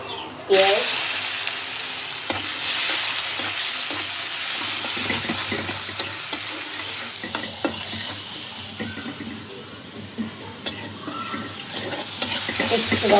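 Onions frying in a pan at home, a steady loud sizzle with scraping stirs and occasional utensil knocks running throughout, no talking.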